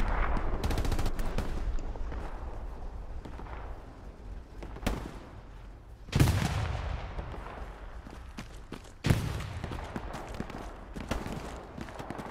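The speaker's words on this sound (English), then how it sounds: "Machine gunner on my ping right here." Machine gun fire crackles in a war video game set in France: bursts of rapid automatic shots, some close and sharp, others distant, mixed with heavier booming impacts over a busy battlefield rumble.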